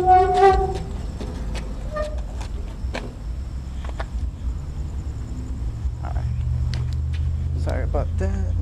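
Road traffic beside a GameStop store's dumpster, a steady low rumble of passing vehicles with a brief horn-like tone at the start, while a person talks over it nearby.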